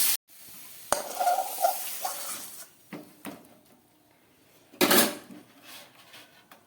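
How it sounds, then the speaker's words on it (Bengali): A spoon stirs taro leaves (kochur shak) in a pan as the water cooks off, giving scraping strokes, soft sizzling and a few sharp clinks of metal on the pan, close and without talk. "কচুর শাকটা নাড়তে নাড়তে দেখুন একদম জল শুকিয়ে গেছে"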